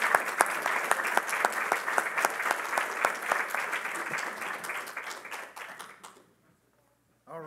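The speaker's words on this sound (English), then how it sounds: "A round of applause to our panel" A room of summit attendees applauds a panel on passenger rail economics, dense steady clapping at first that thins and fades out near the end, followed by a brief moment of near silence and the start of a voice.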